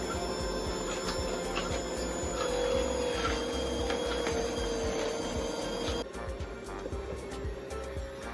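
A juicer grinds carrots with a loud, continuous mechanical whir and steady buzzing hum that runs throughout, shifting slightly in tone partway through.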